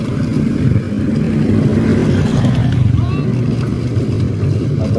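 A truck passes on the Bocimi toll road construction site near the Parungkuda exit, its engine a loud, steady, close low rumble that holds for the whole moment.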